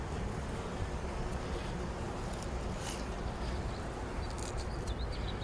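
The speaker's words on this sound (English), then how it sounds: "It's a little windy" Steady wind buffeting a microphone outdoors beside a beehive, a constant broadband rush with no let-up and a few faint high chirps in the background.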